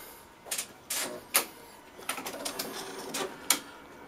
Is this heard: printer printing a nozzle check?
yes